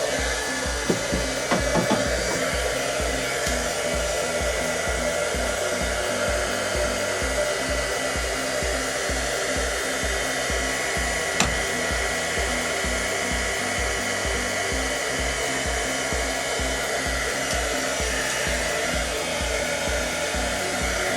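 A heat gun or hair-dryer-style heater runs steadily and close, blowing with a constant whir as a heat-shrink grip sleeve is shrunk over the cork handle of a fishing rod, with no voices.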